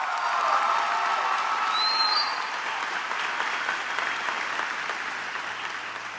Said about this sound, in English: a round of applause for the class of